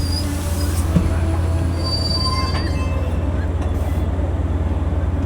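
An eight-car Long Island Rail Road train at Speonk station squeals loudly on its wheels over a steady low rumble of rolling cars, with a sustained metallic screech close by and no speech.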